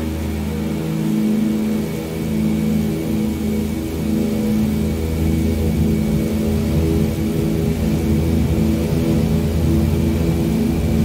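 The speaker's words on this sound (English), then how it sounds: "Man, this plane sounds amazing." Douglas DC-3 piston engines in Microsoft Flight Simulator 2020 drone steadily and loudly throughout, a thick rumbling hum with layered tones at the start of a takeoff run, with no talk.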